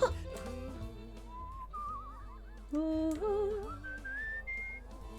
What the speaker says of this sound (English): There, I swear I know how to whistle.